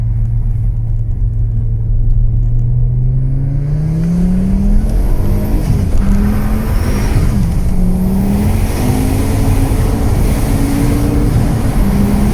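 An XR5X4 turbo car drives around a circle on a rainy day, its engine holding a steady loud rumble that rises in pitch as it accelerates, continuous and close throughout.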